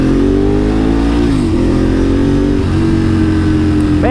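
A motor vehicle engine drones loudly close by on the road, its pitch sliding downward and then holding steady, like traffic rumbling past a rider with no talking.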